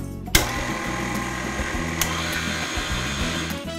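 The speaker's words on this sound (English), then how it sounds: "So I'm gonna turn on my mixer and we're gonna cream this until it's nice and fluffy" An electric stand mixer creams butter for cookie dough, giving a loud, steady motor whir with a sharp knock as it starts and light rattles from the bowl throughout.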